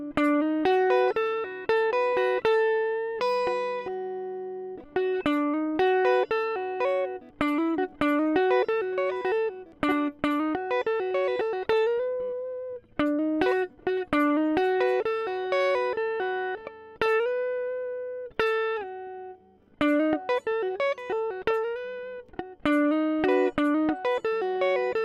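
An electric guitar lick played through effects pedals, with rapid runs of distorted notes in quick succession, repeating in short phrases with brief gaps, loud and close.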